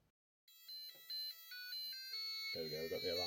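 A small battery-powered alarm clock, just fitted with a new battery after repair, starts its alarm: a bright electronic beeping in a pulsing rhythm, close by, with a voice talking over the last second.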